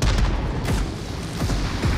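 Rapid gunfire from the video game Rage Gear, a dense stream of sharp booming shots and bursts filling the whole stretch at steady loudness, with no talk over it.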